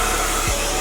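A sit-under hair dryer runs with a steady, loud blowing whoosh and a motor hum, constant and close throughout, with no voices.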